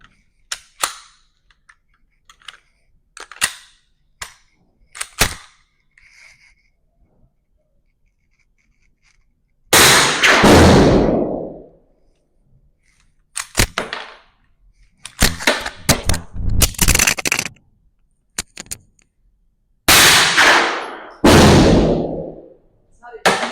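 Hi-Point firearm fired outdoors as several sharp, loud reports in bursts, with clicks and handling noises between them and people talking in the gaps.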